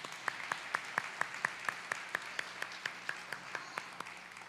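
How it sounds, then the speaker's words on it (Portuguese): A church congregation claps in a slow, steady, even rhythm after an evening worship song, a single repeated beat of clear claps over a soft background hum. "Vocês poderiam bater palmas para esse louvor abençoado dessa noite?"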